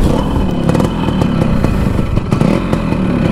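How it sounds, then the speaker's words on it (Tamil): A Yamaha RX100 motorcycle engine starts and runs loud and close, a steady two-stroke clatter and throb with a few sharper knocks, alone with no talking. "இந்த வண்டியை கொஞ்சம் ஆன் பண்ணி பார்த்துடலாங்க."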